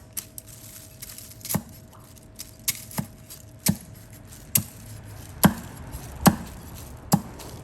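Crispy deep-fried pork is cut with a knife, producing about eight sharp, crunchy chops at irregular intervals, each a crisp crack over a quiet background.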